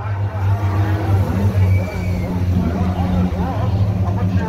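Three-cylinder race car engines drone and rev as the cars approach on a track at Killarney, with a voice talking over the steady mechanical hum.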